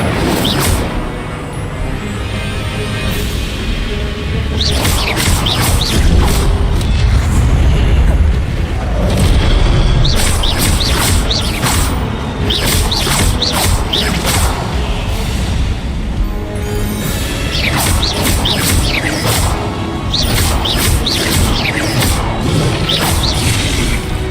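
In the video game Hogwarts Legacy, a player casts the Incendio fire spell over and over, with loud booming fire blasts, whooshes and crackling bursts over a constant dense game background.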